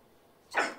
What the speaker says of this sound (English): She barked at it.